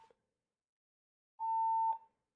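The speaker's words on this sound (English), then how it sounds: "The fire alarm's going off!" A fire alarm sounds a single steady electronic tone of about half a second, clear and moderately loud, with a brief blip beforehand and silence around it.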